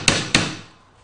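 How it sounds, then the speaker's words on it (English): Two sharp hammer blows drive a nail into the stretcher of a simple wooden stool, each crack ringing briefly before a quiet decay; the strikes come close together and loud. "I'm going to pop a nail into the stretcher here."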